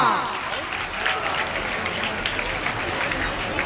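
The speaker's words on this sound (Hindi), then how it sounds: "जोरदार तालियां।" Hearty applause from an audience at an outdoor tribal festival gathering in Kasdol, Chhattisgarh, a steady mass of clapping at moderate loudness with some crowd murmur and a voice underneath.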